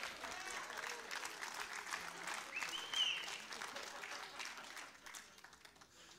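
A church congregation gives a brief round of applause during a sermon. The clapping is dense and moderately distant, swells near the middle and fades toward the end.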